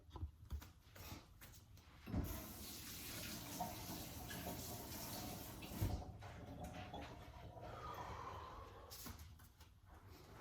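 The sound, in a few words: tap water running while washing hands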